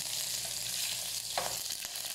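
Garlic frying in a pan with a continuous close sizzle and crackle, a soft stirring knock partway through, with no talk.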